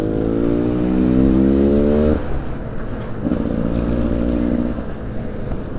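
A Beta Cross Trainer motorcycle engine revs and pulls away on a group ride of eight bikes, its steady harmonic drone rising in pitch, dropping briefly, then climbing again, loud and close throughout.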